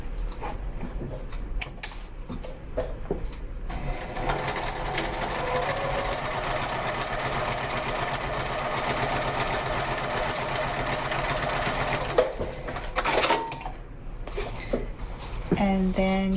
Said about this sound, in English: I'm just stitching from this seam here to this seam here.